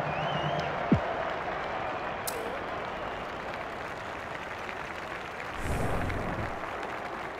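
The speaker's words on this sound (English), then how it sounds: "The crowd already making plenty of noise as the captains come together." Stadium crowd in the AFL 23 video game at a Canberra match between GWS Giants and Western Bulldogs, a steady loud roar of cheering and applause that swells slightly near the end.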